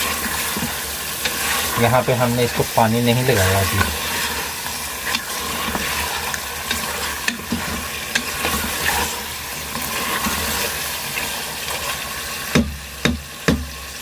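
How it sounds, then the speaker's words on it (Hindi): Steady sizzling of mutton frying in oil in a pan with occasional stirring scrapes, while a person talks briefly at the start and a few sharp clanks follow. "अब ये गोश्त थोड़ी देर जो है वो ऑयल के अंदर इसकी भुनाई होगी।"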